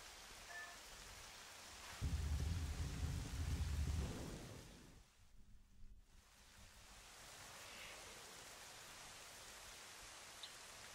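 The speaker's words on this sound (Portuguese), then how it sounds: "Vocês estão vendo que tá tendo uma chuva constante." Steady rain falls in the Hyrule Castle garden in Zelda Twilight Princess, a dense wash of downpour with a louder, heavier burst early on and a brief near-silent dip midway before the constant patter resumes.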